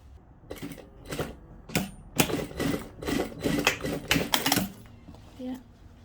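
Sewing machine stitching a jeans zipper, running in several short bursts of mechanical clatter with brief pauses between them, close and fairly loud.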